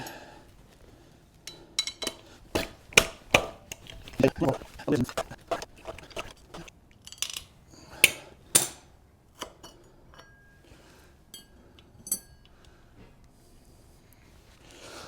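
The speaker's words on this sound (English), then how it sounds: "We're just going to take off this ring of bolts that are holding on this sprocket." Metal clinks and ratcheting taps from a wrench working loose the ring of bolts holding the rear sprocket on a Kawasaki KLR 650 motorcycle, arriving in irregular close bursts with quiet gaps between.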